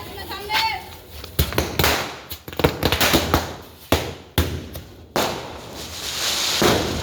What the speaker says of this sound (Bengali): এখানে আমাদের কালীপটকাও ফাটছে